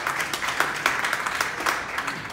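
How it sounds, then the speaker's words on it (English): Scattered applause from a conference crowd at a New York blockchain forum, fairly quiet, with individual claps audible as a quick irregular patter over a couple of seconds. "Let's give Ron Paul a round of applause."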